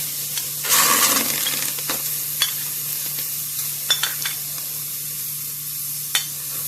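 Steady sizzling and hissing from a hot pot as chicken offal with pounded chili is stirred and fried, with occasional scrapes and clinks of a utensil.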